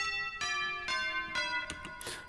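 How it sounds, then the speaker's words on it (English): Tubular bells synth patch on a Korg M1, struck in a slow series of about six ringing bell tones with bright metallic overtones that sustain and overlap, close and alone. "like tubular bells, or church bells maybe"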